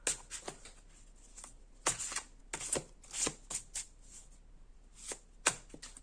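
Tarot cards are shuffled by hand at close range, giving quick papery riffles and soft slaps in irregular bursts, faint and without talking.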